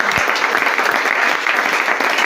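A church congregation at a Bible teaching claps and cheers in sustained, dense applause that fills the room evenly from start to finish.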